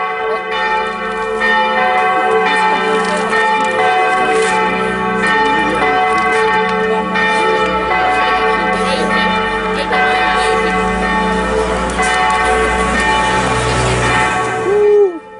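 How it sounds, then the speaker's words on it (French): Church bells ring loudly and continuously, with layered overlapping tolls, at a living nativity scene event. "Avec les cloches"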